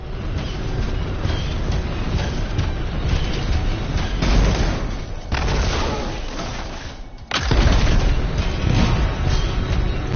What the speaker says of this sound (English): Not to worry. It'll be a contained explosion.